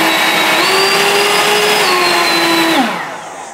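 Ryobi 36V HP brushless 730 CFM leaf blower running at close range, a loud steady whine with a slight pitch shift midway before it spins down near the end.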